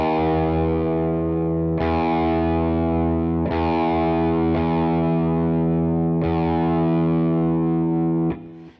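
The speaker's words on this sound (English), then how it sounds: "So you want to actually lower it below the pitch and then pull it up to the pitch" An electric guitar rings out with distortion and effects, several sustained notes struck one after another, each held and slowly decaying as a string is lowered below pitch and brought back up, before cutting off at the end.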